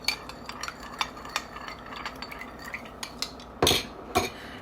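Ingredients stirred together with minced garlic in a bowl or pan for a Cornish hen in reduced Barbancourt sauce: soft scraping and clinking taps, with a couple of louder scrapes near the end.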